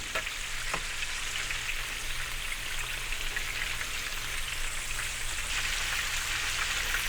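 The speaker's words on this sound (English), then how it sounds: "pulling the oil around and stirring it lightly just so that way the heat is evenly dispersed throughout the pan" Breaded chicken frying in oil gives off a steady, dense sizzle, close and even, with a faint tap or two as it is stirred in the pan. There is no talking.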